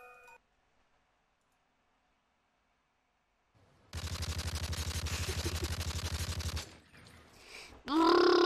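A voice imitates a submachine gun, producing about three seconds of loud, rapid, evenly spaced bursts like automatic fire, preceded by near silence and followed by a brief noisy tail.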